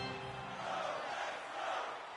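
Arena crowd in the NHL 25 hockey video game, a steady, fairly faint roar of many voices that swells slightly and holds throughout.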